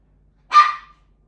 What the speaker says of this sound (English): She barking.